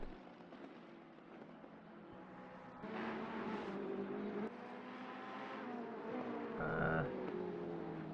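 Race cars in Assetto Corsa Competizione at the Nürburgring roar past with layered engine drones rising and falling, growing louder and busier midway as one car pulls alongside and overtakes another.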